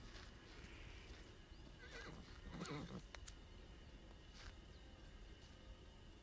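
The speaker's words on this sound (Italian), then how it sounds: "Ma il cavallo nel mentre starà ancora a morire di fame o qualcuno gli ha dato da mangiare?" A horse whinnies faintly in the Alfred Hitchcock: Vertigo video game, a brief call sitting under a steady hiss of background noise with a few soft knocks and no clear talk.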